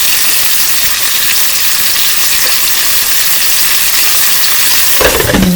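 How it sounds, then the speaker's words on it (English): Beef pot pie filling sizzles loudly in a skillet as it is stirred, a dense, steady frying hiss that fills the whole stretch, with a brief shift in the sound near the end. "I'll give it a little bit of a stir in there."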